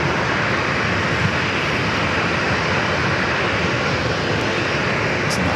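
V-22 Osprey tiltrotor aircraft near San Diego airport, a dense steady rumbling roar at constant loudness with no gaps.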